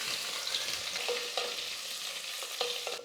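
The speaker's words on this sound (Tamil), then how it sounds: "பூண்டு வந்து நல்லா வதங்கிடுச்சு" Garlic frying in hot oil with popped mustard seeds for a Tamil fish curry, a constant close sizzle broken by a few scraping stirs of a spoon against the pan, with no voices.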